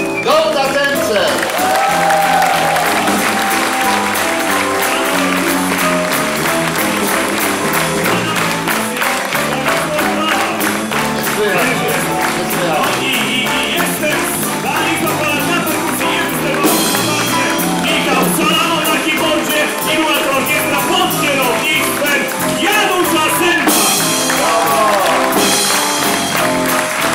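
An audience claps and cheers at the grand finale of the Warsaw Singer festival in a theater, dense applause and shouts mixed with music and stage sound, loud and sustained.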